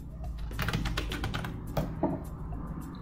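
Quick close-up keystrokes on a computer keyboard as a root password is entered in a Fedora terminal, a brisk flurry of clicks that slows to a few final taps, with no talking.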